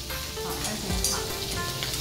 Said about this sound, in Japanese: まずは豚肉を焼くわよ